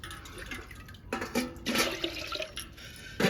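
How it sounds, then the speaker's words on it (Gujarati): Water is poured into a cooking pot to boil dal for a village-style Gujarati dal dhokli. The liquid splashes in several uneven bursts, some louder than others, close by with no talking. "દાળ બફાય એટલે રીતનું પાણી નાખી દઈએ"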